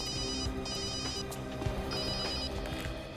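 A telephone rings steadily and loudly throughout, its repeating electronic ringtone pattern sitting over a dense layer of background music.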